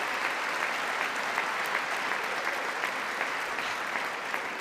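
A congressional audience applauds during a presidential address to Congress, a steady, dense wash of many hands clapping at an even level throughout, with no voices standing out.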